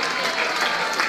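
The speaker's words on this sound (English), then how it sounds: "Let's give her a very big clap." An audience at a charity dinner dance for cancer research claps for a magic trick volunteer in a dense, steady wash of applause, brief and fairly loud, filling the room.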